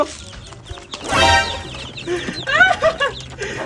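Young, growing chicks calling nearby, a burst of bright overlapping peeps and chirps followed by several shorter, sharper cheeps, all fairly loud and close.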